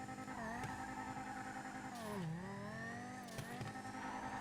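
A video game car engine in GTA revs high and steady, its pitch dipping and climbing as if nearing a gear shift, loud and continuous with no voices.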